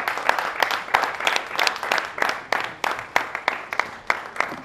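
Audience applause at a Hindi stage play, with sharp claps falling in a rough steady rhythm and swelling together over a busy, sustained crowd wash.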